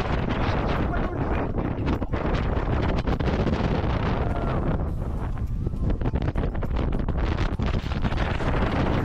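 Strong wind blows across the misty Kalavantin bastion of Sinhgad Fort in the Sahyadri hills. A loud, continuous roar buffets the microphone for the whole stretch, easing briefly near the middle and then rising again.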